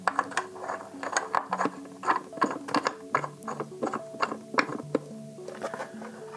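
Metal piece being screwed into a hole in a Valencia Oslo luxury home theater seat, producing steady rhythmic ratcheting clicks and small metallic scrapes, close up with no talk.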